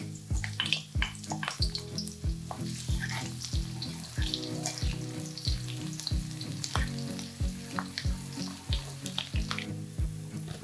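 Small shallots sizzle and crackle steadily in hot oil for a fish head curry, a dense, close frying hiss with a regular stirring or scraping rhythm throughout.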